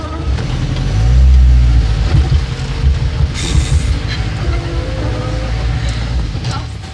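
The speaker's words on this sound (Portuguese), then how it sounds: "O carro vai embora." A car on a trail near the Castelhanos beach and a waterfall drives off, its low engine rumble rising briefly and then fading into the distance amid outdoor ambience.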